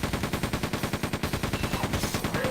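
Rapid automatic gunfire in the video game Quake II, a steady fast stream of loud, dense shots with a pulsing rhythm and no pauses, with no speech.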